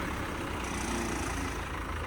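A 2023 Massey Ferguson 5210 tractor's engine rumbles steadily as it is driven out, a continuous close, low, dense drone with no pauses.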